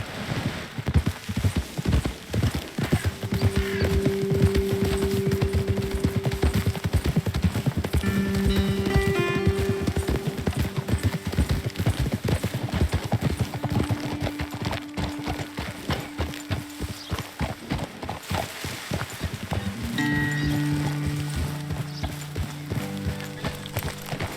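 Horses' hooves clip-clop at a steady trotting rhythm on a trail in Red Dead Redemption 2, close and loud throughout, with rain-like ambience and game music tones underneath.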